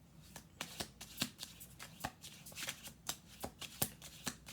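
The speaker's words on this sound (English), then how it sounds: "One more shuffle." Tarot cards are shuffled close up, a string of sharp papery riffles repeating at an even pace, each burst quick and bright, with quiet between and no speech.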